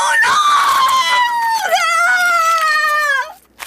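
Dogs let out a loud, sustained howl during an attack, one long wavering cry that slides slightly downward and then holds before cutting off, close and dominant throughout.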